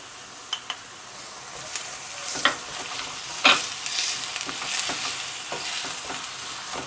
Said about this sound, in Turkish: Soğanlar kavrulurken tuzumuzu atıyoruz.